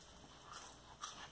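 Faint crunching bites into crisp frozen lamb pizza crust, a couple of soft crackly chews close up in a quiet room.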